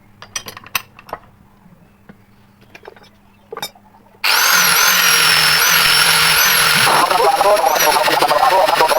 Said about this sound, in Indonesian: si kancingnya ini harus digerinda biar setara dengan ini